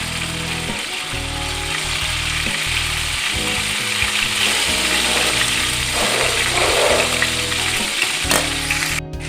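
Beef kebabs fry on a hot tawa griddle with a loud, continuous sizzle. Repeated scraping and clattering of a utensil against the metal can be heard up close, and no one speaks.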